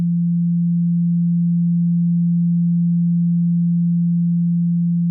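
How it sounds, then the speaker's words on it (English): A steady, pure low test tone hums at constant loudness for about five seconds, meant to pan in stereo from one ear to the other, then cuts off abruptly. "you should be able to hear this sound moving from one ear over to the next ear"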